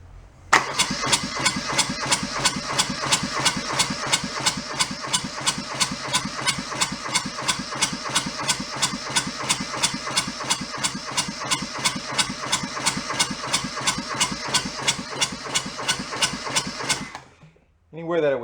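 A junked small diesel engine runs with a steady rapid knocking chug, loud and close, holding an even idle rhythm for about sixteen seconds before it cuts out abruptly.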